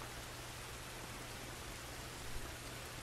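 Continuous broadband rainfall noise in the video game The Last of Us, a constant soft hiss over a low droning hum, with no talking and no breaks.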